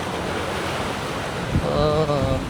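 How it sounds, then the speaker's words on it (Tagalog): Strong wind buffeting the microphone with a roaring rush at Masasa Beach lagoon on Tingloy Island, Batangas, surf beneath, and a brief gust-like swell near the end. "Lakas ang hangin."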